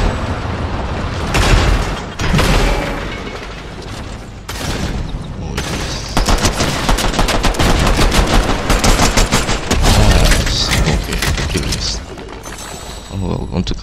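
Gunfire in a Fortnite Chapter 5 battle, loud close bursts of rapid automatic shots and single cracks with booming impacts, coming in clusters separated by short lulls, with a voice talking over the fight.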